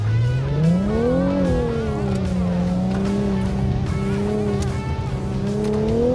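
A 2016 Infiniti Q50 Red Sport 400 with direct adaptive steering runs a slalom test, its engine note rising and falling through gear changes, loud and close, with tires squealing through the turns.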